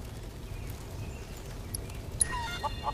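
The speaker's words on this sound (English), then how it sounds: "So we just need to catch your chickens" Faint, scattered chicken clucks from the Final Fantasy VII Rebirth video game, a few soft calls bunched toward the end over a low, steady ambient rumble.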